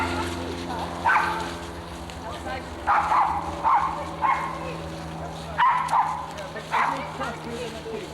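An Alsatian dog barks outdoors in Epping Forest, giving about six single, loud barks at irregular intervals while people talk nearby.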